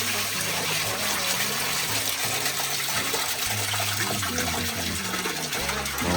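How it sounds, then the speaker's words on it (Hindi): Water overflowing from a tank pours down from above in a steady, close, continuous gush that fills the whole stretch without pause. "पानी जो है ना अभी ऊपर से गिर रहा है अभी ओवरलोड हो।"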